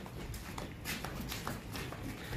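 A healthy male goat running over the ground, its hooves giving a quick, uneven run of close clip-clop thuds against steady outdoor background noise.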